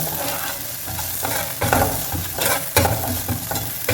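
Green chilies frying in oil in a pan for Chettinad beef gravy, a steady close sizzle with repeated stirring scrapes and knocks of a utensil against the pan.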